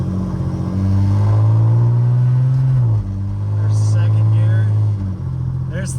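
A cheap Pontiac Fiero with a loose-feeling suspension accelerating hard through all three gears, a loud droning engine note that rises, drops at a shift and climbs again, with someone talking over it.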